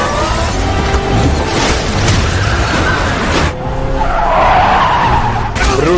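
A car from the film Mortal Kombat (2021) screeches away with skidding tires in a loud, sustained squeal that swells again toward the end, backed by engine roar and a dense action soundtrack.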